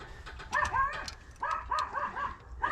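Dog barking nearby in a workshop, a few short yipping barks and whiny yelps in two bursts, fairly close.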